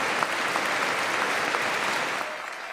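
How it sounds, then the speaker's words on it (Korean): US Congress members rise for a standing ovation after the South Korean president's address to Congress: dense, sustained applause from a large chamber crowd, steady throughout and easing slightly at the very end. "미국 상하원 의원들이 모두 일어나 박수를 칩니다."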